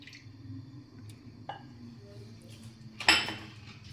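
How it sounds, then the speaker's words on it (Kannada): A kadai set down on a kitchen stove before oil goes in, giving a sharp metallic clank near the end over a low steady background hum. "ಒಂದು ಕಡಾಯಿ ಇಟ್ಕೊಂಡಿದ್ದೀನಿ, ಅದಕ್ಕೆ ಆಯಿಲ್ ಆ್ಯಡ್ ಮಾಡ್ಕೊಳ್ಳೋಣ"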